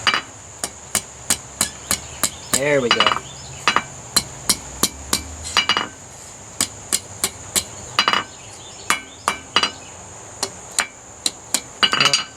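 A larger hammer strikes metal being forged for fair crafts in a rhythmic series of sharp, ringing blows, with a few brief pauses and a short spoken remark.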